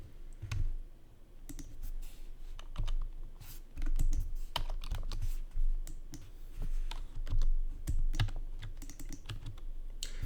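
Rapid clicking keystrokes as a root password is typed on a computer keyboard during an Endian Firewall lab setup, with steady irregular bursts of close, crisp key taps throughout and no talking.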